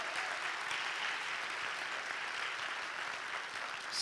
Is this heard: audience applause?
yes